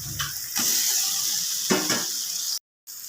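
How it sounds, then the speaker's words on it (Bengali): Eggplants dropped into a pan of hot oil, bursting into a loud steady sizzle with bubbling crackle that continues until a brief cut near the end. "বেগুনগুলো দিয়ে দেবো।"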